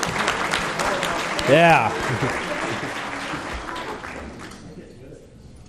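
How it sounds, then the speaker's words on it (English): A crowd at an awards ceremony claps loudly for a student of the year, with a brief cheer rising partway through before the clapping slowly fades. "get him another round of applause"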